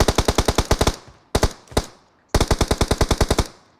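Automatic gunfire in a video game comes in sharp, loud rapid bursts of about ten shots, then a few single shots, then another long burst, with silence between.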